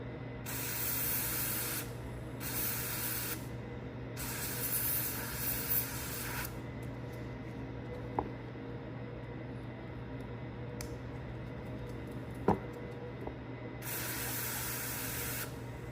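Fast-evaporating contact cleaner sprayed in several loud hissing bursts onto a greased yo-yo bearing, the blasts separated by quieter gaps with a few small clicks between them.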